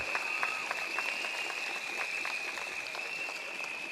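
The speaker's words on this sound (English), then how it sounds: "Give a big round of applause to Dr." Steady applause from a crowd at an outdoor political rally, a dense, continuous wash of clapping with a persistent high tone running through it.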